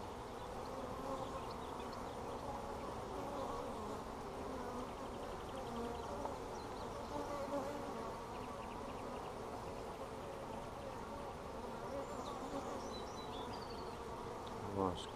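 Honey bees hum in a dense, steady drone around an open hive in a bee yard during colony splitting, continuous and fairly faint throughout with no voices.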